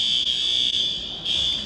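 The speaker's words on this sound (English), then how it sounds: "Guys, alarms just went off." A fire alarm blares indoors with a loud, piercing, continuous high-pitched electronic tone, close and steady with brief dips, sounding alone.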